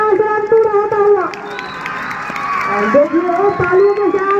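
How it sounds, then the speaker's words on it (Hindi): A crowd at a local cricket match cheers and claps to welcome the batsmen, a lively burst of shouts and clapping mixed with nearby voices. "देखिए वो तालियों के साथ स्वागत कर रहे हैं बल्लेबाजों का"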